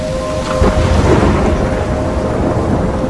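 Loud thunderstorm from the video game Life is Strange, heavy rain pouring continuously with a deep rolling crack of thunder swelling near the start, no voices.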